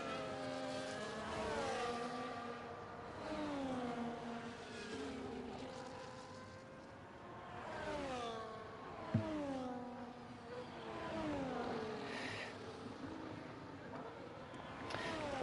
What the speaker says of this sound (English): Ferrari is on the outlap, as we see also the McLarens, both on the lap.